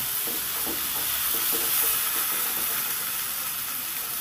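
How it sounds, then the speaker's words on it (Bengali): Okra fries and sizzles in hot oil, a loud continuous hiss with soft scraping as it is stirred in the pan. "এবার নেড়ে চেড়ে তিন থেকে চার মিনিট আমি সুন্দর করে একটু ভেজে নেব"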